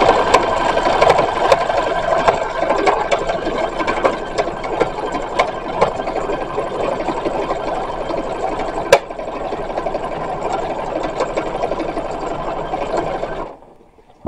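Sewing machine running steadily for about thirteen seconds, stitching seams on an embroidered 1916-style linen dress, a continuous close mechanical whir that stops abruptly near the end.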